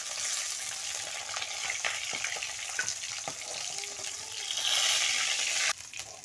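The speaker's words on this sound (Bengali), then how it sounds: "আমার এক পাশ ভাজা হয়ে গিয়েছে, আমার মাছটা ভাজা হয়ে গেছে" Fish sizzling and crackling in hot oil in a home kitchen pan, a steady close frying hiss with scattered pops and clinks, growing a little louder near the end before dropping off.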